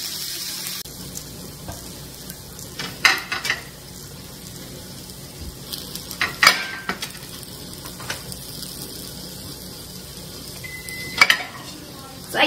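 Food frying in a pan in a home kitchen, a steady close hiss broken by clinks and scrapes of stirring, with louder bursts near three, six and eleven seconds.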